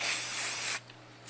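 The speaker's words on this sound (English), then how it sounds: "go ahead and start priming the wheel." A spray can sprays primer onto a Porsche 928 wheel rim in one steady hiss lasting most of a second. It stops abruptly, leaving faint room noise.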